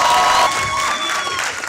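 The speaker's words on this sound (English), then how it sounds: "Please give them a rousing round of applause." An audience at a show taping applauds, a short burst of crowd clapping and cheering that is loud at first and then eases slightly.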